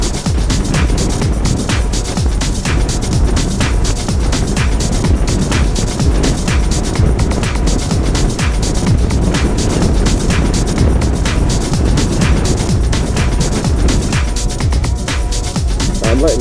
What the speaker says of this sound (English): I'm letting the engine slow it down, keep it at a steady pace.